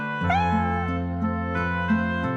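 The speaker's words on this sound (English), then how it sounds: "kitten wants milk." A cartoon kitten gives several short, high, plaintive meows in a row, close and clear over a steady background tone.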